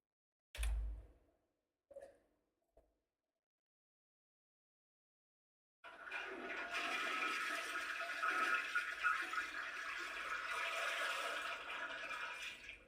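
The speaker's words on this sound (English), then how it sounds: "That was the Space Quest 4 toilet flush." Toilet flush effect from the video game Space Quest 4: a few short clunks and knocks, a brief silence, then a loud sustained rushing gurgle of water that continues to the end.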